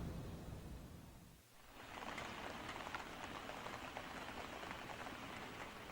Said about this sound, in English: It's a rainy day in Miyazaki, South Japan.